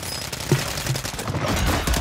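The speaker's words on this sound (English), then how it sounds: "He was shooting." Video game gunfire, a short burst of sharp shots scattered irregularly over a couple of seconds, moderately loud and mixed with game noise.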